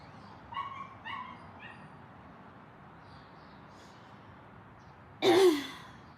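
A dog barks a few times in the distance outdoors, short faint yips early on, followed by a louder brief sigh-like burst near the end, with no talk over it.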